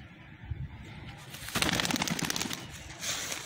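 Domestic pigeons kept as pets coo softly, with low murmuring calls under a brief flurry of louder rustling and flapping in the middle, and no talking over it.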